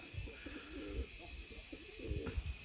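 Soft pigeon cooing from Mykolaiv, Budapest, Csapó and mirror breed pigeons repeats in low, rounded phrases, fairly close, over a steady background hum.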